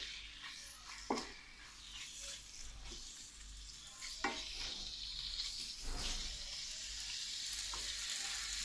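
Boneless chicken pieces fry lightly in a pan, a soft continuous sizzle with a few sharp clicks and stirring scrapes, fairly quiet and close, no talk.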